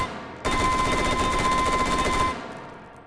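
Rapid automatic gunfire in the VR game Hot Dogs, Horseshoes & Hand Grenades, a loud, fast, even burst of shots lasting about two seconds, cutting off abruptly and leaving a faint ringing tail.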